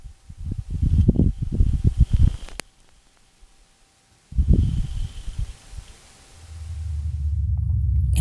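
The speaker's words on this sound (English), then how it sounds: "This is the actual audio of a Martian dust devil." Martian dust devil recorded by the Perseverance rover's microphones on Mars: two bursts of rough, gusty rumbling wind noise separated by a near-silent gap, ending in a steady low roar that builds toward the close.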